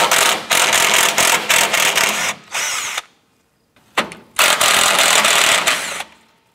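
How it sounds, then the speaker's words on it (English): A power tool with a 10 mm socket drives out radiator support bracket bolts on a 2004-2008 Acura TL, loud close whirring bursts with a ratcheting stutter, stopping briefly before another long run. "We're going to use our 10 millimeter socket and remove the bolts holding our radiator support"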